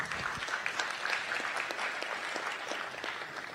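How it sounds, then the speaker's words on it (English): A room full of people at a city's State of the City event applauds in a steady, dense round of clapping that carries on throughout at an even level, with no talking over it. "Round of applause for everybody."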